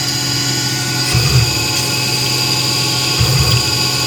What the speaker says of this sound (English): So right now it's drilling for the detent hole.